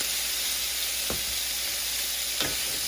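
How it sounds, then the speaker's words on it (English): Chicken sautés in a pan with Creole seasoning for a chicken and chorizo paella, giving a steady, close sizzle with two brief stirring scrapes. "And we just want this to start sauteing"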